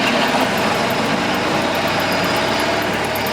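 A Ford Model T engine runs in first gear, a loud, steady, vibrating drone with a rough mechanical rattle, close and continuous with no talk.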